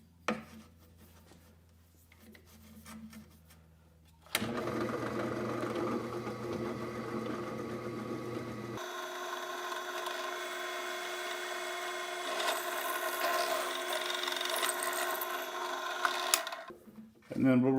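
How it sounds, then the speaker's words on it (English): Power drill boring holes all the way through a hollow single-space rack mount, a steady loud whirring grind that runs for several seconds and shifts pitch partway through as the bit pushes deeper, after brief quiet talk at the start. "Okay, so now we want to drill our holes."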